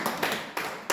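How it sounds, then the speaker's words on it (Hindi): Audience clapping at a Hindi Good Friday church gathering, four separate sharp claps in an even rhythm, close and fairly loud. "क्या बात है, हेमा बहन के लिए तालियां।"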